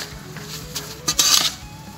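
A bokashi fermentation mixture of leaves is stirred in a container, giving scraping, clinking strokes that swell briefly and loudly near the end over a steady background hiss.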